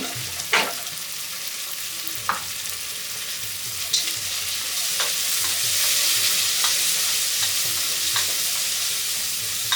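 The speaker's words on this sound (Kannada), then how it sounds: "ಇಲ್ಲಿ ಬಟಾಣಿ ಹಾಕ್ತಾ ಇದ್ದೀನಿ, ಹಸಿ ಬಟಾಣಿ ಫ್ರೋಸನ್ ಸಾಕು." Frozen green peas tumble into a hot frying pan for jackfruit biryani and are stirred, with a steady sizzle of frying underneath and several sharp scraping stirs and clinks at close range, no talking.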